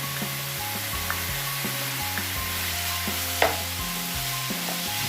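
Minced meat and bulgur sizzling steadily in a hot pan while being stirred, with occasional spoon scrapes and a sharper clink partway through; no voices.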